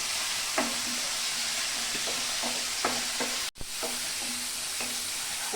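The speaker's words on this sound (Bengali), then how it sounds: "অল্প জল দিয়ে একটু মশলাটা কষিয়ে নেব" Spice paste with Kashmiri chilli powder is sautéed in a pan with a little water under a steady sizzling hiss, with rhythmic spatula scrapes and taps repeating about every half second, close by and without talking.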